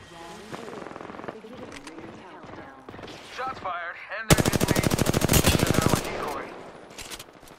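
Rapid automatic gunfire in Apex Legends rattles in a long, loud, evenly spaced burst aimed at the player, after stretches of voice chatter and game sounds.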